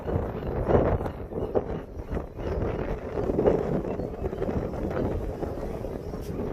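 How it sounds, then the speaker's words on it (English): Strong wind buffets the microphone on a windy lookout in San Francisco facing the Golden Gate Bridge, a steady low roaring rumble with gusty swells that runs through the whole stretch. "Sorry about the wind."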